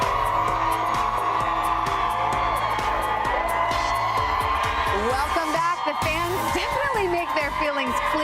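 Fans scream at the 2013 Golden Globe Awards red carpet arrivals, a continuous loud wash of crowd shrieks and whoops with voices talking over it.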